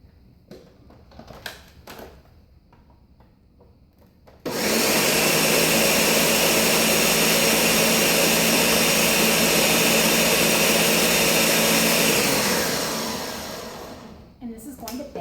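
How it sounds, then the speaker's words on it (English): A countertop blender roars at full power as it purees cauliflower, a steady loud whine lasting about eight seconds before spinning down, with brief talk just before it starts. "And I'm sure you could use a food processor for this if you didn't have a blender like this."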